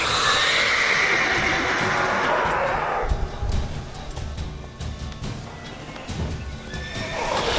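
Roach the horse in The Witcher 3 game lets out a loud, drawn-out neigh up close. Scattered hoof clip-clops and game ambience follow.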